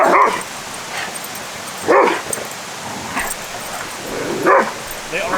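Dogs bark and yip in short playful bursts at a rainy fall campsite beside a waterfall, several loud barks spaced across a few seconds over steady rain-like background noise.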